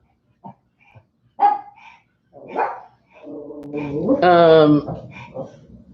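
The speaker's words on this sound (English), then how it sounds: "There's a dog walking a person out there." Speech comes first, and then a dog outdoors gives a drawn-out, whining bark that rises and falls near the end.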